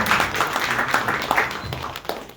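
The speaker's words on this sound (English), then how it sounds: "let's give our candidates a round of applause." A crowd at a Dallas political forum applauds candidates with a short burst of scattered clapping that carries on steadily throughout.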